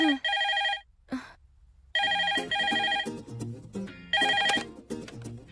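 A telephone rings in bursts of electronic ringing, loud and close, with a brief pause and a short soft sound between rings, then rings again.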